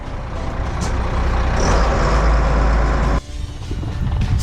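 Heavy vehicles rumbling as they drive out of a town ahead of fighting, a loud close engine roar with a hiss like an air brake that cuts off abruptly near the end, leaving lighter traffic noise.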